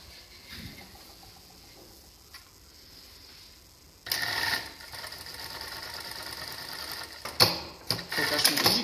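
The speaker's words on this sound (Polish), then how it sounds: "Włączone obcinanie nici." A Jack A5E automatic lockstitch sewing machine idles quietly, then starts running with a steady mechanical whir and a fast ticking stitch rhythm, with sharp clicks as the thread trimmer cuts near the end.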